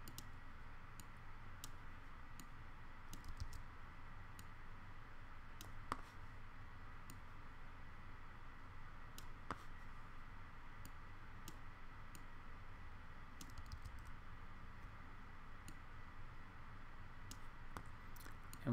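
Sparse, sharp computer mouse clicks while tracing a shadow with the Photoshop pen tool on a car drawing, single and paired taps scattered irregularly over a quiet, hissy room.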